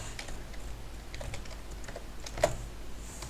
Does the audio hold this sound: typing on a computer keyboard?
yes